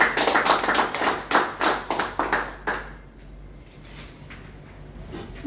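A small room of people at a general assembly claps briefly for about three seconds to adopt the 2025 financial report, the claps fading out into quiet room tone.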